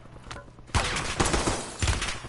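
Rapid bursts of gunfire in Call of Duty Black Ops 6, loud and close, stacking into a dense fusillade with a sharp burst at the start and another near the end.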